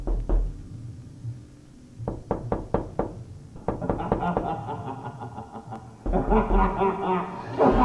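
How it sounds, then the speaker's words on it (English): Faint knocking in a Batman analog horror tape, spaced knocks that come in quick groups and grow louder and denser, ending in a burst of loud laughter. "we get some faint knocking that can be heard"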